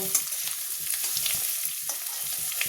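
Potatoes fried in oil to a reddish brown hiss in a pan, a steady close sizzle with light spatula scrapes and taps as they are turned and lifted out.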